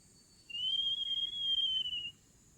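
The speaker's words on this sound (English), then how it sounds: "Whistling a little bit." A single sustained human whistle, clear and steady with a slight wavering pitch, lasts about a second and a half amid quiet forest ambience in Costa Rica.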